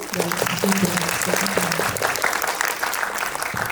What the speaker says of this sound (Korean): 오늘 이야기 들려주신 이세영 배우님께 큰 박수 부탁드리고